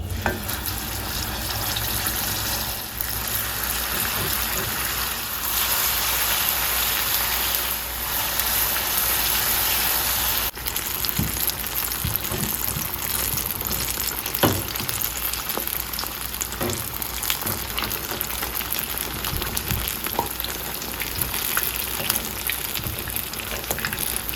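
Steady, dense sizzling of Jamaican saltfish fritters frying in hot oil, close by, with occasional spatters and pops running continuously throughout.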